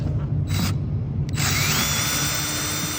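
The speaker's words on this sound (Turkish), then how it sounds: "O vidaları gevşetip, gevşetip çıkartıyoruz." A power screwdriver backs out screws from a Kia Ceed headlight LED module: a brief whirring burst, a short pause, then a sustained high motor whine with a rising pitch, close and loud.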